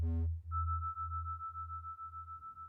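A Nord Micro Modular synth bass line sent through a wave wrapper: a short buzzy tone at the start, then a low, pulsing bass under a thin, steady high sine tone that stays level and fairly quiet.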